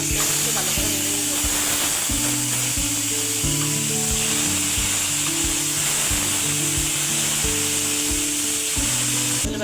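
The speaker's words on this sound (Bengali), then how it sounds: "মাছগুলো ভালো করে ভেজে নেব।" Fish frying in oil for a Bengali taro-stolon curry makes a steady, even sizzling hiss throughout, with a tonal musical backing playing underneath.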